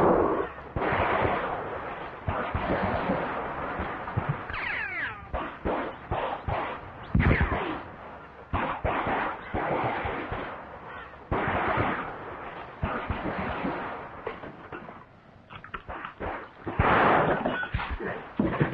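Gunshots in a 1944 western film ring out as a long, busy barrage of sharp cracks and reports, loud and uneven, with a few heavier booms amid a rough, band-limited soundtrack and no clear talking.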